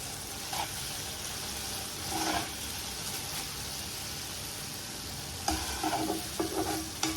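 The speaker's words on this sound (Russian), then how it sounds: "Пасту томатную надо пережаривать хорошо." Tomato paste frying in a pan with steady sizzling, broken by several scraping stirs of a utensil against the pan, close and clear, with no voices.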